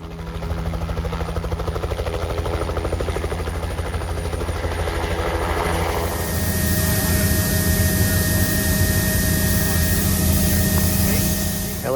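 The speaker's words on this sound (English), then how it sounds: "Helicopter just dropped us off." A helicopter roars steadily nearby in remote mountain terrain after dropping off hunters, its rotor chop and turbine whine continuous and loud, growing brighter and fuller about halfway through.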